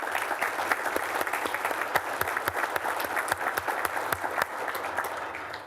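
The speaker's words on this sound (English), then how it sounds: "everyone giving a round of applause" An audience at a congressman's breakfast meeting applauds steadily for several seconds, with a dense, even wash of many hands clapping close by and no talk over it.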